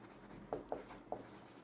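Writing on a board during a physics lesson: three short, crisp strokes or taps close by, evenly spaced over a faint, quiet room hum, with no talking.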